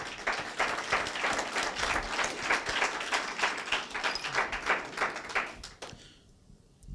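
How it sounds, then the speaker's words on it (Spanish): A church congregation claps in dense, sustained applause for several seconds, with rhythmic waves of clapping before it quickly dies away. "Dale un aplauso a Dios por eso."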